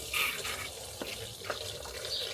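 Water runs steadily from a tap in a self-built VW Crafter camper van, a continuous close splashing stream into a sink with a few small drips and knocks, with no talking.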